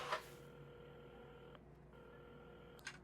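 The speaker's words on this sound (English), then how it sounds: "Carmen had started dialing the phone" A telephone dialed in the video game Assemble With Care: soft, faint electronic tones with a steady hum, a brief break in the middle and a small click near the end, with no voices.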